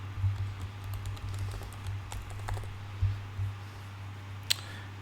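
Soft keystrokes on a computer keyboard tap out a short, irregular burst of typing over a steady low electrical hum, with one sharper click near the end.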